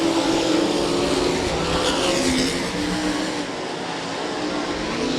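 Sprint cars racing on a raceway in a Sprint Invaders event, a steady loud roar of several engines that stays dense throughout and dips slightly partway, with a crowd-like wash over the top and no clear talk.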